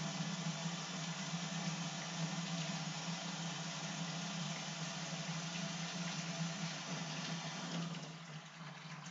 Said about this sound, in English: Sorry for the water noise, but just gotta let it get up to nice and hot.